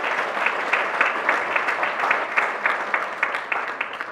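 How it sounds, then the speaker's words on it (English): A large audience at a nonprofit organizations awards celebration applauds continuously, a thick, even wash of many hands clapping in a hall with no break. "How about another round of applause?"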